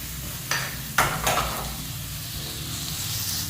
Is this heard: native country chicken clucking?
no